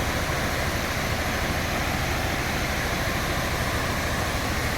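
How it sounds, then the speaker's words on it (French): Steady, dense roar of a waterfall cascading beside a temple in Bao Loc, Vietnam, a broad unbroken rush of falling water filling the whole scene at close range with no voices. "ici effectivement une très belle cascade"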